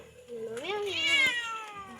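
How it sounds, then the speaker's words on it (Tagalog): Two pet cats at a relative's house meow close by, one rising, wavering cry with a softer call at the start, heard alone without talk. "Ito yung dalawang pusa ng tito ko."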